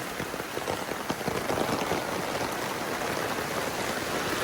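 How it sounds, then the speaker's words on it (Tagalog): A downpour of heavy rain drums steadily and close by, a thick unbroken wash of drops on surfaces, loud throughout with no talking. "Pinaulanan kami ng pinaulan."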